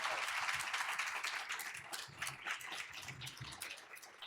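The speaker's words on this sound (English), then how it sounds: "let's give a little extra applause as we bring Ann up to the stage." Audience applause at an economic mobility summit as a speaker is brought to the stage, a steady dense clapping that stays fairly faint and distant throughout.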